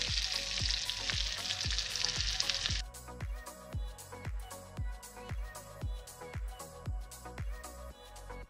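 Lamb hearts frying in a pan, a loud steady sizzle that drops off partway as they are lifted out, followed by a regular rhythm of short clinks and knocks. No one speaks.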